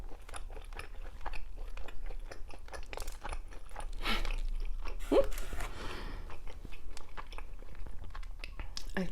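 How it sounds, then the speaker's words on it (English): Burger being chewed and eaten up close, with soft crunchy bites and wet mastication noises repeating steadily and fairly loud throughout, no talking. "I chew my food so many times."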